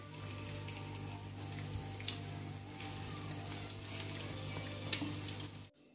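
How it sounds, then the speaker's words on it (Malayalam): Prawn cutlets coated in breadcrumbs fry in oil over a medium-low flame with a steady, close crackle and sizzle under a constant low hum. The sound cuts off abruptly at the end. "മീഡിയം ടു ലോ ഫ്ലെയിമിലിട്ടിട്ട് ഫ്രൈ ചെയ്തെടുത്താൽ മതി."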